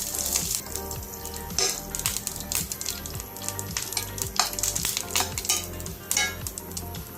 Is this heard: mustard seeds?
yes